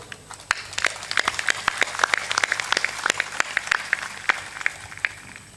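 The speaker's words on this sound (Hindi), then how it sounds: "सत्संग में जोरदार ताली बजाना भी सीखो" Applause from an audience at a Hindu satsang, a dense patter of many hands clapping steadily for several seconds, fairly close and lively with sharp individual claps standing out.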